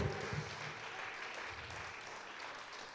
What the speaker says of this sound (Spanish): Si es para el Señor ese aplauso, déselo con gozo.